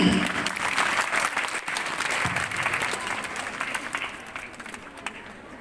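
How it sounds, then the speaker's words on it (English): A school audience applauds class 6B at an afternoon prize ceremony, a dense, steady round of clapping from a large crowd that stays strong throughout and gradually thins toward the end. "A big round of applause for class 6B"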